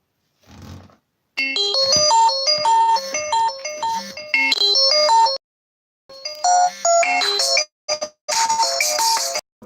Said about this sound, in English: Phone alarm went off.